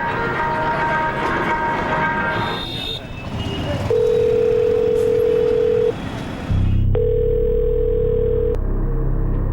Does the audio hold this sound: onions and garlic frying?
no